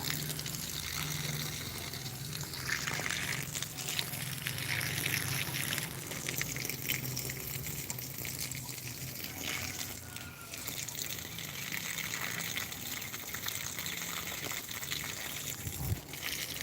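Steady running water while garden plants are watered, a constant close hiss and splash that continues throughout without talking.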